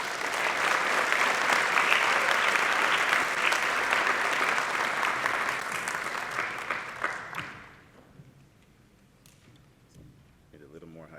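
An audience at an opening convocation for a college's class of 2028 applauds to welcome a dean, producing loud, sustained clapping that fades after about seven seconds into quiet room noise with faint shuffling.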